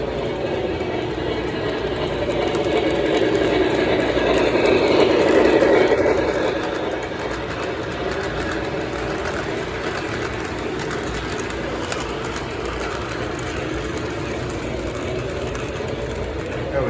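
A Long Island Railroad model train pulling tanker cars runs with a continuous whirring hum that swells slightly for a few seconds and then settles, with faint clicking over a steady drone.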